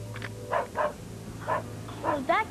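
A neighbor's dog barks in a short run of about five sharp woofs spaced irregularly, moderately close, ending with a rising yip.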